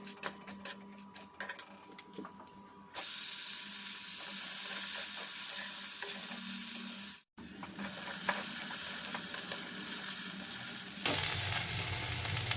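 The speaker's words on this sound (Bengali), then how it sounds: "পেঁয়াজ রসুনটা ভাজা হলো" Onion and garlic frying in a pan, starting with scattered clicks and light crackle before a dense, continuous close sizzle takes over, briefly cut off, then resuming with stirring, no talking.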